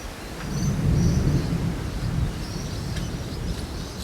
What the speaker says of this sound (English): Hail smashing homes.